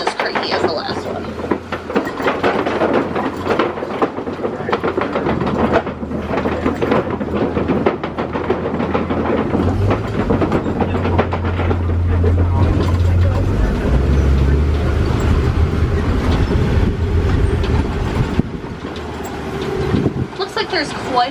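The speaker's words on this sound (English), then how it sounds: "Sounds like this one is just as creaky as the last one." A safari vehicle rumbles steadily across a creaky bridge on the Kilimanjaro Safari ride, a continuous low engine drone with rattling and creaking throughout, with speech over it.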